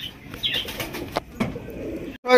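Pigeons at a farm, racers and golla breed, give soft coos and a brief burst of wing flapping, close and fairly quiet, ending in a sudden noisy clatter.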